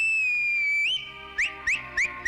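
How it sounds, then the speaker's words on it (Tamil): A man whistles in a street scene from a Tamil film, one long sustained high whistle bending upward, then a series of short, sharp rising whistle bursts repeated in a quick rhythm over faint background music. "ரோட்ல விசில் அடிக்க தெரியுமா"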